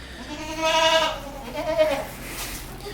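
Two or three loud, close goat bleats ring out in a goat barn with pens of doelings, wavering nasal cries in quick succession.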